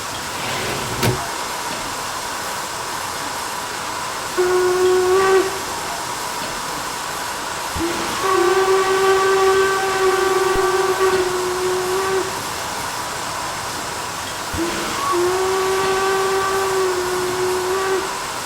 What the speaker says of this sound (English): the standard spacebar whistle will either play only a short blast, or, if you hold down the spacebar for more than 1 second, it loops